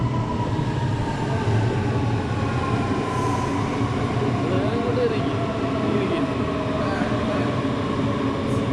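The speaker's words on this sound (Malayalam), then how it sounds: "ഞങ്ങൾ മെട്രോയിൽ കയറിയിരിക്കുകയാണ്." Metro train in Nuremberg, Germany, heard from inside a carriage: a steady, loud rumble of wheels on rails with faint squeals and clicks, continuous and close with no talking.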